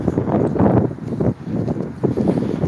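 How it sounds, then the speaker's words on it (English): Wind gusting on a cold, windy New York City street, a steady rushing roar with buffeting bursts across the microphone that swell and dip briefly before surging again. "It's kind of cold and windy out today"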